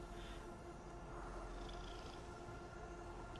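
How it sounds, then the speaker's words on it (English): A cat purrs close and quiet, a low continuous rumble holding steady with a soft hiss over it, no voices. "And a cat."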